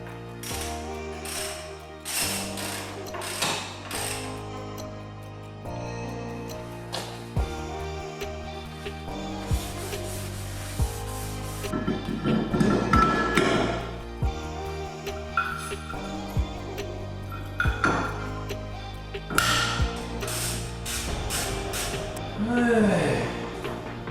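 Brake rotors fitted onto a car in a home garage, with repeated ratchet clicks, metallic clunks and tool handling coming in irregular bursts over about twenty seconds, close and fairly loud.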